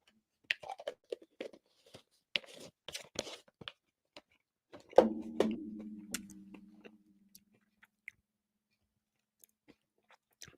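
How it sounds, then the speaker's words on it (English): A CBD gummy is chewed close to the microphone, giving irregular soft squelches, clicks and small crunches, with a denser burst of chewing midway and then sparse ticks in a quiet room. "ASMR of me chewing."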